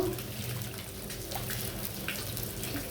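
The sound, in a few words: rice being washed in water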